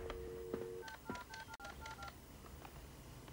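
A touch-tone telephone in a house is dialed, giving a quick run of distinct electronic beeps after a steady tone, with no voices.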